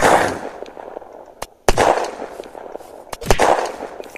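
Video game gunfire: a handful of sharp, loud shots, two close together and then two more a moment later, over a constant noisy game soundscape.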